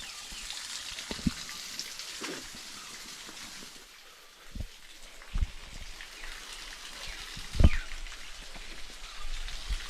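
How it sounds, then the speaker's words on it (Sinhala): Water falls from a mountain spring in Sri Lanka's Knuckles forest in a continuous nearby patter and trickle, punctuated by a few louder splashing drops. "මේ දිගටම වතුර වැටෙනවා"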